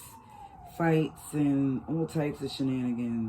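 An ambulance siren wails outside on a New York City street, a faint, falling tone in the background that fades as a person starts talking in the foreground.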